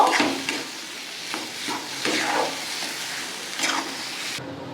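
Potato being mixed with spice masala in a pan, a continuous sizzle broken by several swishing scrapes of the spatula, near and moderately loud.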